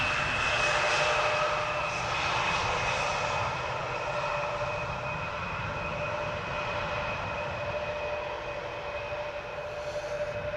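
KLM Embraer 175 jet airliner arriving at Amsterdam Schiphol Airport in humid weather, a loud sustained engine roar with steady tonal whine, slowly easing as the aircraft passes.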